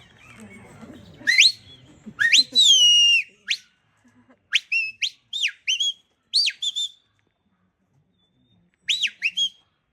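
A shepherd's series of sharp, rising and falling whistled commands to a sheepdog, short bursts in quick succession with pauses, sounding across open ground in rural Ireland after a brief low rumble.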